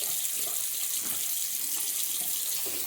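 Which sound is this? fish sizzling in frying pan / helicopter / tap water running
tap water running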